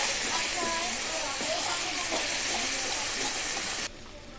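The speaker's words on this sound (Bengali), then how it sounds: "তেলগুলো ছিটছে, তাই জন্য আমি সামান্য জল দিয়ে দেব" Hot oil spatters and hisses in a pan as spices such as turmeric and salt fry for a Bengali fish curry. The steady, bright crackle is close and continuous, then drops off suddenly near the end.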